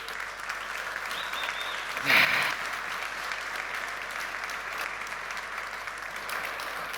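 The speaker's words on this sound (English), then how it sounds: "give yourself a round of applause" An audience at a Lisbon tech conference gives a sustained round of applause, a steady wash of many hands clapping together with a brief louder swell partway through.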